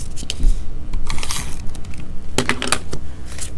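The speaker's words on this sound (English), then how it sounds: "I'm going to use my Tonic Funky Tape Runner, which is one of my favourite tapes" A Tonic Funky Tape Runner lays adhesive tape on card, heard as close, dry clicking and rasping bursts of handling and rolling in quick, irregular clusters.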